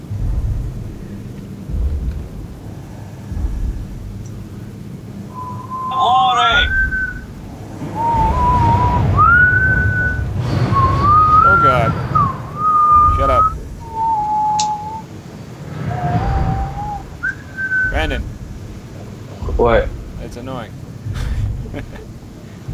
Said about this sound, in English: because I don't even know why I was whistling that.